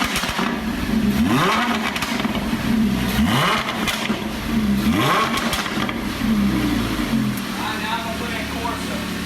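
Lamborghini Huracan, a rebuilt wrecked car, revving hard several times in a row, each rising roar and crackling fall loud and close, with someone talking over and between the revs.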